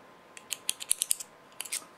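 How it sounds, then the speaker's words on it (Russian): Metal awl working into the reed block of a Shuya accordion under restoration, a run of small, close clicks and scraping ticks in a quick irregular cluster, then a brief second burst, with no talk. "Вот я сюда шило втыкаю."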